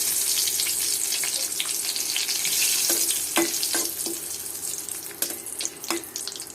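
Chopped onion and nutmeg fry in hot oil with bay leaf and cinnamon for an egg curry, giving a steady, close broadband sizzle with scattered pops and a few sharper crackles toward the end.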